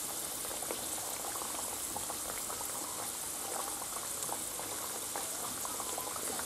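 Potatoes sizzle and bubble in hot oil in a pan as they are turned over, a steady dense crackling hiss with faint scattered pops, fairly quiet and uninterrupted.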